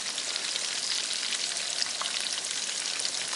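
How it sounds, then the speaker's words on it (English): Breaded Polish kotlety cutlets frying in hot oil, a steady dense sizzle that holds evenly loud from start to finish with no voices. "I'm going to fry till you see it turn like golden brown"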